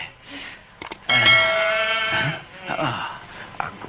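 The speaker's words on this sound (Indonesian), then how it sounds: "Oh, kambing-kambingku gemuk semua." Goats in a cartoon bleat in loud, wavering cries, with one long sustained call and shorter bleats around it, heard close and clear.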